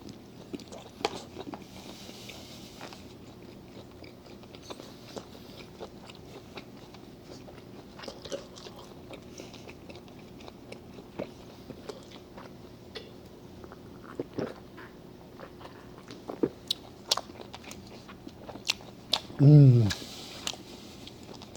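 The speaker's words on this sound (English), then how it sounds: "maybe a minute of mukbang and then log out" Close-up mukbang chewing of a Ruby Tuesday ribeye steak gives soft, irregular wet chews and small mouth clicks at a low level, with a louder crunchy bite near the end.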